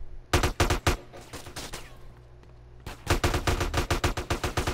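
Gunfire in GTA San Andreas: rapid bursts of close, loud automatic shots, a short quiet gap, then another long rattling string of shots.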